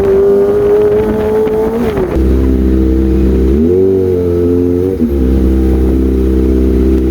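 Kawasaki Ninja ZX25R motorcycle engine revving: a loud, close, high-pitched whine holds steady, then drops and surges through several rev changes over about seven seconds, with no talking.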